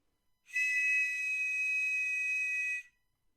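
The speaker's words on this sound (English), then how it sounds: "This is a whistle that was given away in Cap'n Crunch breakfast cereal in the United States" A small plastic Cap'n Crunch cereal-box toy whistle blown once, a steady piercing high-pitched tone lasting about two seconds, close and loud in a quiet room.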